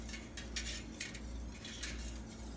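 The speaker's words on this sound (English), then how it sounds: "Make sure I get all that citric acid powder, and you mix it well." A utensil stirs citric acid powder into milk in a pot for homemade mozzarella, repeated soft scraping and clinking strokes against the pot in an uneven rhythm, close and fairly quiet, with no talk.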